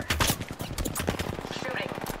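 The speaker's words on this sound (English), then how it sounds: "I'm under fire." Bursts of gunfire in a video game come in rapid, close volleys. A synthetic character voice and game sound effects blend with the shots throughout.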